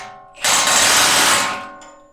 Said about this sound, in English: So this morning I had to go get an impact wrench.